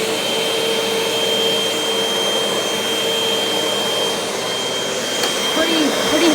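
A vintage vacuum cleaner from a collection runs steadily over carpet, a loud, constant motor roar with a high whine, close and unbroken throughout.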